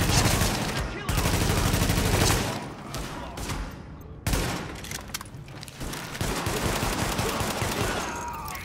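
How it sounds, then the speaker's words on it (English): Dense gunfire from a rooftop gunner pinning down an escort party in The Division, sustained bursts of automatic fire with brief gaps, loud and close, voices shouting now and then in the mix. "The escort party's taking heavy fire from the roof"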